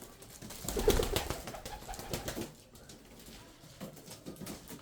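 Tumbler pigeons from Kırşehir coo softly, one low, rolling burst of calls close by early on, then faint rustling and pattering in a quiet loft.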